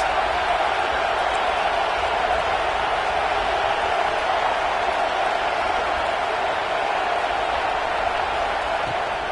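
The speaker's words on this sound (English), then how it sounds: "this crowd getting behind its defense" A large college football stadium crowd roars in a steady, dense wash of cheering and noise that holds at a constant loud level throughout.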